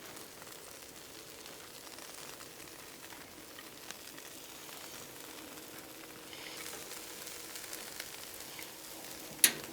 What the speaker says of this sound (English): All right, so now we're gonna do is add some onions.